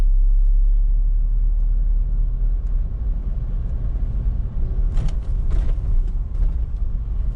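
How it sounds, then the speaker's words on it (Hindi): A car driven by a learner pulls straight out of a turn and picks up speed as throttle is applied, a steady close engine rumble with road noise and a few faint creaks, no talking. "देखो अब दूंगी रेस जब सीधी हो जाएगी गाड़ी मेरी।"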